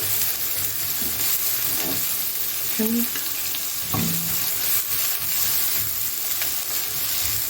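Onions tipped into hot oil in a pan fry with a loud, constant sizzling hiss, broken now and then by faint scrapes of stirring.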